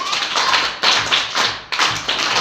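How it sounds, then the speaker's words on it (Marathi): A classroom group at a village school prize event claps in a few rhythmic bursts for the winners, loud and close, with no talking. "त्यांच्यासाठी पण टाळ्या."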